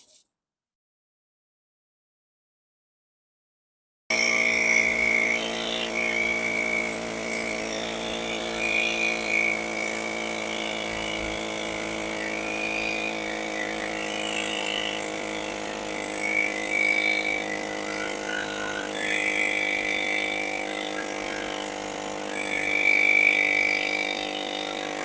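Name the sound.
cutting copper evaporator coil into sections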